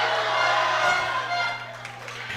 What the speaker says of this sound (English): I'm not sure you can even hear us on the live stream because of the crowd. The atmosphere is crazy